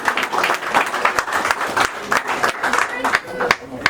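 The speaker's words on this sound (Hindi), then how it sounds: "जोरदार ताली हो जाए आशीर्वाद" Guests clap loudly at an engagement ceremony, a dense, continuous burst of applause with sharp individual claps standing out, close and lively, with some voices mixed in.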